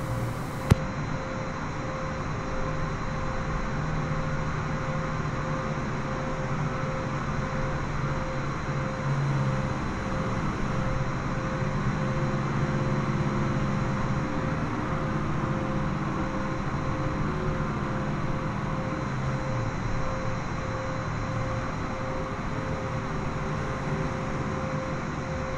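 A pushback tug moves a Boeing 787 in a flight simulator, a steady, even mechanical drone and hum that holds unchanged throughout without any talk.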